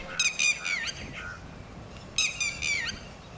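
A bird gives two loud series of rapid, repeated squawking calls outdoors near the seaside, separated by a short quiet gap with faint background noise.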